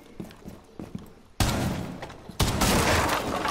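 A shotgun fires in a video game, two loud, abrupt blasts about a second apart, each followed by a sustained roar, after some lighter thumping.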